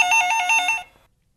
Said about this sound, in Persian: بابا لااقل بزنیم برم به تلفن جواب بدم.